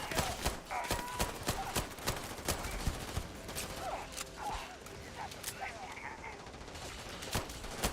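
Rapid gunfire in the space game Starfield, sharp shots cracking in quick irregular bursts across the whole stretch, with a voice talking throughout underneath.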